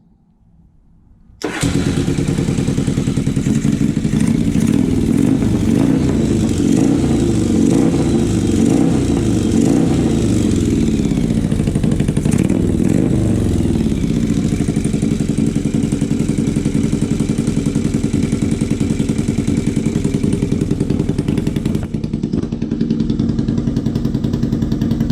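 A Yamaha XV750 motorcycle engine on its original Yamaha ignition starts abruptly after a short quiet moment, then runs steadily and loudly at a throbbing idle close by for over twenty seconds, with no voices.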